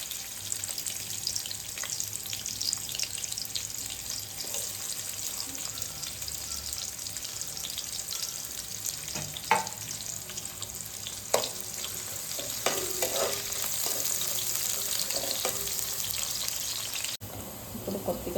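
Chopped onions fry in a pan with a steady close sizzle, occasional stirring scrapes and clinks breaking through the continuous hiss.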